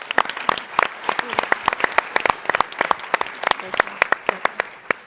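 Audience applause at the TechCrunch Startup Battlefield, heard as sharp, distinct hand claps in an irregular patter with speech mixed in.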